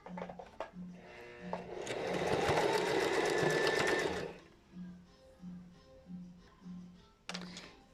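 A sewing machine runs in one sustained burst of rapid stitching as fabric is backstitched at the start of a seam, with brief short mechanical clicks before and after and a faint low hum beneath.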